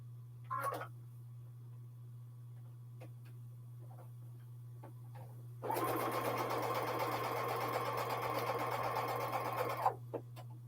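A home sewing machine stitching a quilt block made from pre-cut fabric triangles, running steadily for about four seconds after a brief earlier burst, close and fairly loud against a constant low hum.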